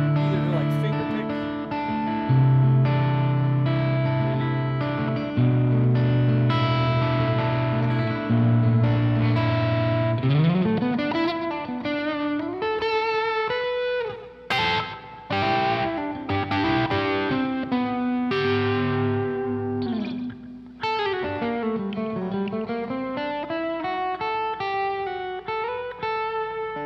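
Electric guitar run through effects, played with the pick tucked away, gives sustained distorted, chorus-tinged notes that shift into fast plucked runs and sliding bends, loud and continuous throughout.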